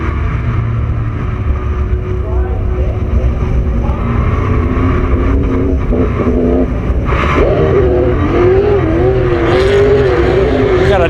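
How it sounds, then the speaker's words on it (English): Super late model race car freestyle drifting at Willow Springs International Raceway, its engine roaring loud and steady throughout with revving swells and tire noise, under a crowd and announcer backdrop. "You can always count on a good time and a good drift show from that number 3 machine."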